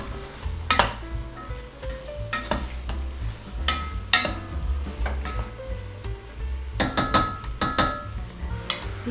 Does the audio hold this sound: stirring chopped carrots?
yes